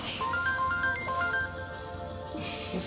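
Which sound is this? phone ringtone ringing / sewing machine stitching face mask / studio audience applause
phone ringtone ringing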